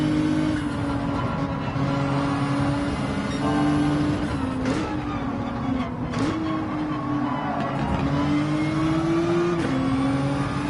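Hyundai Genesis race car in Gran Turismo 7 at Brands Hatch, engine held at high revs with a loud steady buzzing drone that rises and dips as it shifts gears, continuous and close.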